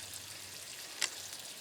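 Seasoning oil sizzles quietly in a carbon steel frying pan over a camp burner outdoors, a soft continuous frying hiss with one brief sharper spit.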